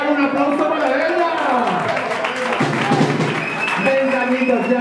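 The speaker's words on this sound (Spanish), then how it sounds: "¡Un aplauso para ella!" Concert audience applauding a birthday girl named Carmen at a show, steady clapping and crowd noise under an amplified voice and lingering music tones.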